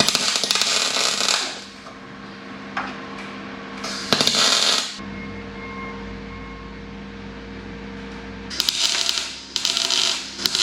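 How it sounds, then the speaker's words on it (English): A drift car under construction is welded in bursts. Loud crackling and hissing arcs come in three spells separated by quieter stretches of low shop hum. "Perhaps I'll turn the welder on."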